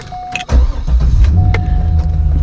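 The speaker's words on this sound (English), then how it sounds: "And I'll start the car." A Chevrolet C5 Corvette engine cranks and catches close by, then settles into a steady low idle rumble, after a faint electronic tone.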